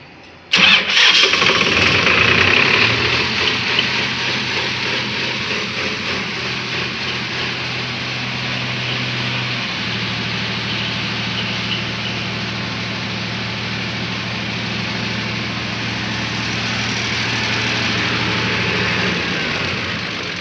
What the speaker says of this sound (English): now I am cranking over the engine